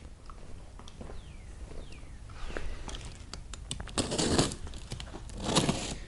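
Packing tape on a portable mobility scooter's cardboard box being sliced with a blade, giving a few soft scraping tears and crinkles that grow louder near the end, with faint handling noises in between.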